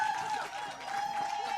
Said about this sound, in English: Can we give our guests a round of applause?